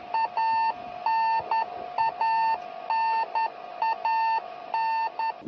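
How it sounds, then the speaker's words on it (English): A radio beacon on a Soyuz spacecraft gives a steady run of clear electronic beeps, some short and some long, in a broken rhythm, alone with no talk. "The beeping sound you hear is a radio beacon on the Soyuz spacecraft"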